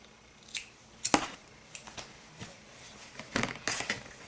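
Scissors snip through the yarn end of a crocheted amigurumi octopus, a few short close clicks and snips spread irregularly, with quiet handling noise between them and no talk.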